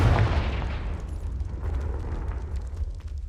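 A fiery spell explosion in the Hogwarts Legacy video game, one heavy booming blast at the start that rolls into a long rumbling decay, loud and close.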